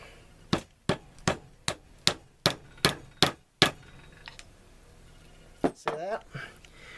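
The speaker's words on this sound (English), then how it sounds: "We're going to take a soft faced hammer" A soft-faced hammer drives a fastener onto a Kydex belt loop, eight sharp evenly spaced strikes in a steady rhythm, followed by a pause and a couple more taps with brief rustling.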